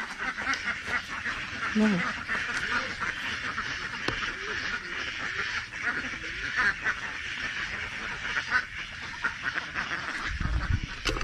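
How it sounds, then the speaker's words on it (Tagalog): Ducks quacking on a small farm pen, a steady chorus of overlapping calls close by, with people talking throughout and a brief low thump near the end. "Itik."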